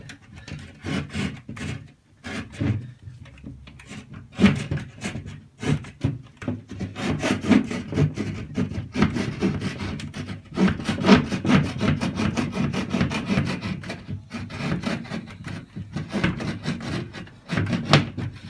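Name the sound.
hand saw cutting a door into a small wooden model house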